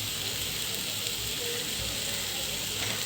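Ginger, green chilli and curry leaf paste sautéing in a pan for chicken dry roast, a steady close hiss of sizzling oil with faint stirring scrapes running throughout.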